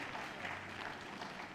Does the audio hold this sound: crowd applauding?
yes